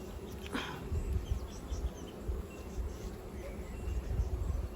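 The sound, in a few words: honey bees buzzing at a hive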